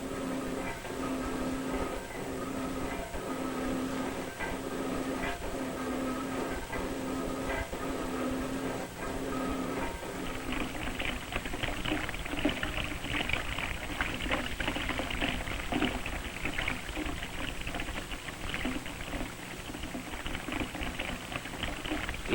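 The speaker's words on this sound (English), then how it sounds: "Electricity runs the pump that pumps water for the milk cows." Electric pump on a 1940s winter farm drawing water for milk cows, a steady mechanical chugging with a regular rhythmic pulse, followed by a rushing, splashing flow of water in the second half, no talk.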